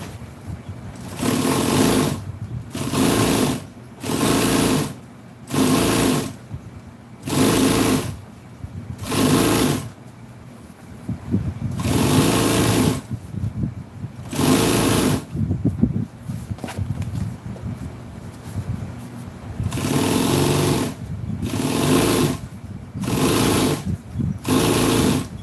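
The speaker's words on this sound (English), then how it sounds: "I'm just sewing back about an inch." Sewing machine stitching a seat cover for a 1966 Chevy truck, running in about a dozen short close bursts with brief pauses between, then longer runs near the end.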